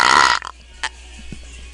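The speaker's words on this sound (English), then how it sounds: "I'm gonna try doing one of my alien burps" A deliberate, weird alien-style belch, loud and raspy at the start and fading into a few short, faint gurgles, with no talking.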